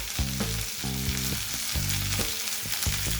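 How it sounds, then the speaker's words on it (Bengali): Chopped onion, ginger, garlic and green chillies frying in a pan, a loud continuous sizzle broken by short rhythmic scraping strokes of a spatula, close and without any talk. "এবার এগুলোকেও সামান্য একটু সময় নিয়ে ভেজে নেব"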